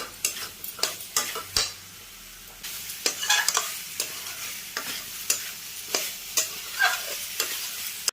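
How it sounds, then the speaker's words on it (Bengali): Soya chunks stirred with potato and tomato in a pan, close sizzling under a run of quick scraping strokes and utensil knocks that repeat unevenly throughout, no voices. "এবার এতে আমি সোয়াবিন বড়িগুলো দিয়ে দেবো। নিয়ে একটু নাড়চাড় করবো"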